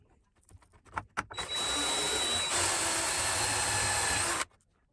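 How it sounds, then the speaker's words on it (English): A drill press bores into century-old wooden studs, first a few knocks and brief bursts, then a steady, loud, high-pitched whir with grinding that runs for about three seconds before cutting off. "then we'll finish them off on the drill press"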